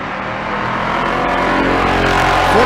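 A Corvette convertible on a Bandimere drag strip during race week, a loud engine roar building steadily in volume and pitch as it accelerates, with no voices.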